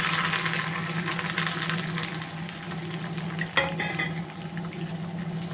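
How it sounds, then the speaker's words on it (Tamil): Small onions and curry leaves sputtering in hot oil, a continuous bubbling sizzle with scattered sharp pops and crackles, moderately close, with a brief louder spatter midway and no voices. "வெங்காயமும் கருவேப்பிலையும் போடும்."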